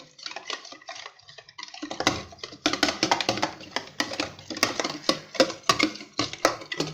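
A spoon mixing yogurt with coriander, mint and green chili paste in a bowl for macaroni chaat, giving close, rhythmic clinks and scrapes that grow steadier as the stirring goes on.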